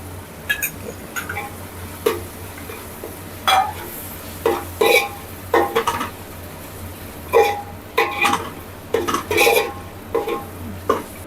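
A spoon scrapes and clinks against a pan while sour curd is stirred into frying chicken masala for smoky chicken, producing irregular close knocks and scrapes over a soft background sizzle.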